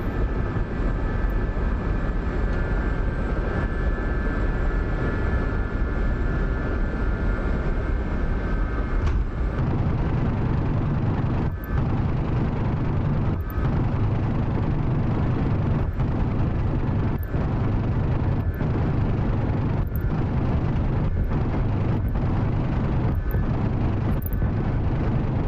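An SA-342 Gazelle helicopter in the DCS flight game makes a loud, steady rotor and turbine drone that fills the whole stretch, broken by a series of sharp, evenly spaced pops as rockets fire in quick succession.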